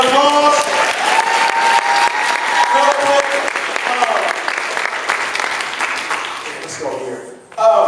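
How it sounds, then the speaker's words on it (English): A large audience claps loudly and continuously for several seconds, the applause fading near the end before a voice cuts in. "Can we give our panel a big round of applause?"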